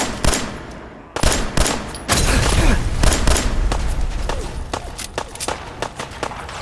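Rapid bursts of gunfire in Fallout 4 on PlayStation 5, with overlapping shots cracking in quick irregular volleys throughout and heavy thumps mixed into the dense firefight.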